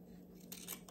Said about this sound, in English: what I'm going to do is I'm going to take my scissors.